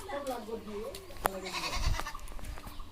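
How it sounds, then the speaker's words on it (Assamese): Goats kept at home on the Goru Bihu festival day bleat in short, wavering calls close by, with rustling and a dull thump around them. "আমাৰ ছাগলী দুজনী আছে"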